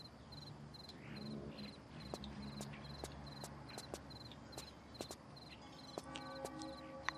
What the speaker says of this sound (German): Ihr hört doch Grillenzirpen